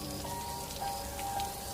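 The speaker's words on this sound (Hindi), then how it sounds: "तभी अचानक एकदम से बारिश शुरू हो जाती है।" Heavy rain pours steadily in a dense forest, a loud, continuous wash of drops close by with no breaks.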